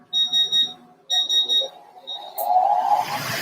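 A Bescutter Versa 150 watt laser cutter starts up with repeated loud electronic alarm beeps, followed by the rising whir of its chiller and blower that swells into a steady, broad mechanical roar.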